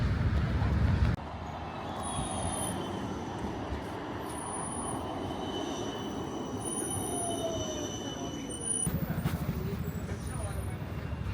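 A Budapest tram rolls along its rails with a rumbling hum and high metallic wheel squeals, interior rattles and faint background voices around it.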